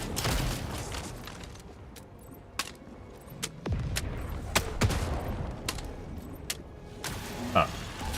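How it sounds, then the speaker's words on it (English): Gunfire in Helldivers 2: scattered sharp shots crack one at a time and in small clusters over a rumbling battlefield background, close and fairly loud, with irregular gaps between them. "Shooting through his leg right now."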